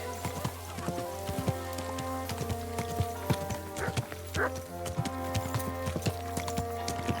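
Horse hooves clip-clopping steadily on wet ground in the rain in the medieval video game Kingdom Come: Deliverance II, a close, continuous rhythmic patter with occasional snorts and someone speaking over it.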